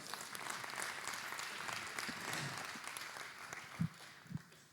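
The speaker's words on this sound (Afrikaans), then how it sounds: "Kan ons even 'n groot hande klap." An audience at an Afrikaans church-planting talk gives a big round of hand clapping, steady dense applause that thins out toward the end with a few last claps.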